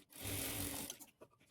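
A sewing machine stitches blouse pieces with a quarter-inch seam margin: one close, steady motor run of under a second that fades into soft handling noises, with no voices.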